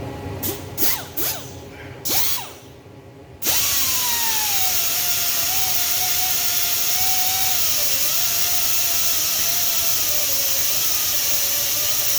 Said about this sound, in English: Fire up the grinder and knock some of the